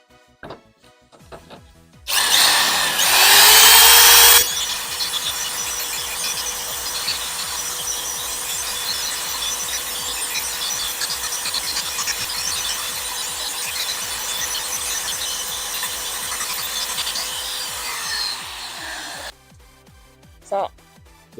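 A double-action electric polisher fitted with a thin wool buff works ultra-fine compound into a Suzuki Wagon R's paint. It starts with a brief loud burst, then settles into a steady, even whirring drone for about fifteen seconds before cutting off.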